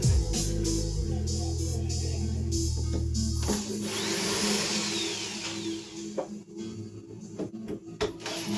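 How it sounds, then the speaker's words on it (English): A power driver whirs loudly for a few seconds, backing screws out of a wooden crate that holds a display piece, then stops, leaving softer clicks and handling noises of the wood and hardware. "let's get these screws out"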